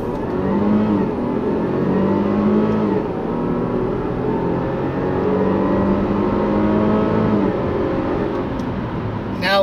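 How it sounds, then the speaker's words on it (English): A 2016 Range Rover HSE cruises along the road, giving a steady, continuous engine and road drone with tire roar that holds level throughout, close and moderately loud with no talking. "when you're going down the road"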